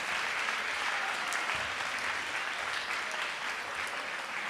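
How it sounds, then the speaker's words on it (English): A crowd at a Sunday program gives the winners a full round of applause, with broad, steady clapping from many hands that stays even throughout at a moderate, somewhat distant level. "please, once again, give a big round of applause to all the winners"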